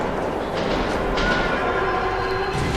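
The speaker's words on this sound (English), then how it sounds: "Oh, good, a ghost train." A ghost train rumbles past in the tunnels of Metro 2033 Redux, a loud, steady rolling roar of rail cars with faint metallic squeals and clatter, sustained for the whole moment.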